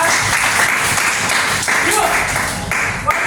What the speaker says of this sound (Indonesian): Tepuk tangan buat Akmal ya.